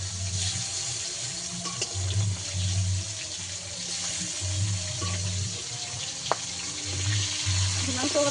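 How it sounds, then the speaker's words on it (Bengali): Fish frying in oil in a pan for a village-style spiced fish curry, giving a steady close sizzling hiss with faint clinks and a low voice now and then. "এক পিঠ ভালোভাবে ভাজা হয়ে গেছে তাই উল্টে দিয়ে দেবো।"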